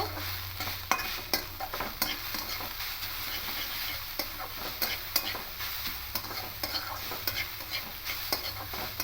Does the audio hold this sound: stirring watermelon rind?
yes